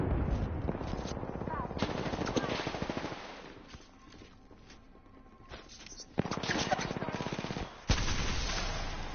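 Automatic gunfire in the battle royale game Apex Legends, with long rapid bursts that fill most of the stretch, a short lull in the middle, then more sustained firing, loud and close.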